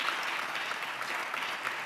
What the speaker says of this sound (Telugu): చప్పట్లు కొట్టు దేవునికి స్తోత్రాలు చెప్తా